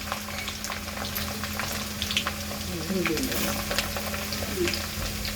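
Garlic sizzling in hot oil for a prawn pickle, a dense crackling fry close by with scattered pops and light stirring, while faint speech runs underneath.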